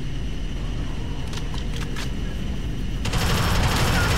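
Gunfire in the sci-fi shooter Alien Swarm: Reactive Drop, with a few bursts of rapid machine-gun fire that swell into a dense, loud fusillade near the end over a constant background roar.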